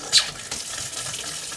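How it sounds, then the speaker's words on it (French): Water runs steadily from a sink tap as the hot-water line of a mobile home is purged. The flow is a close, continuous hiss with a brief splash near the start. "On va purger l'eau chaude."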